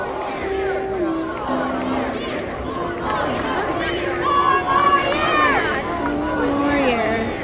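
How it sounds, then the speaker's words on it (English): A large outdoor crowd at a Trump rally in Macon, Georgia chants rhythmically in unison, a dense, steady wall of voices with rising cheers partway through. "the crowd is chanting 4 more years"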